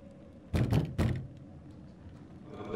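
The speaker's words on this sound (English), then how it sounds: "The back door is locked." A locked back door in the horror game Little Hope is tried, giving two sharp wooden rattling thuds in quick succession that fade into quiet room tone.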